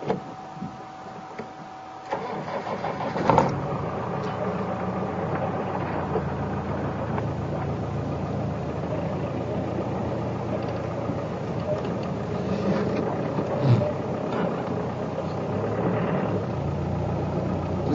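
A safari vehicle's engine idles and moves as it repositions during an afternoon game drive, giving a steady moderate mechanical hum with a sharper clunk early on and slight swells later.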